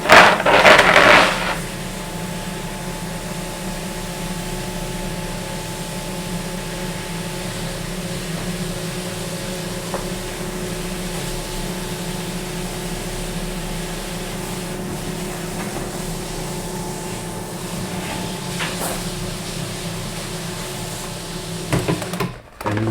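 A Cricut Explore 3 or Maker 3 cutting machine unloads a metal sheet, giving a brief mechanical clatter at the start, then a long, steady motor hum, ending with another short rattle.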